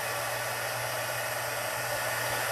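Heat embossing tool melting embossing powder, producing a loud, steady, close-up rushing whoosh like a hair dryer that holds constant throughout with no talking.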